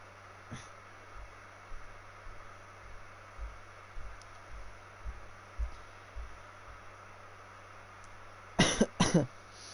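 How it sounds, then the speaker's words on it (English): A person coughs close to the microphone: two sharp, loud coughs near the end, following quiet throbbing thumps and a low hum in an otherwise still room. "And apologies for any coughs."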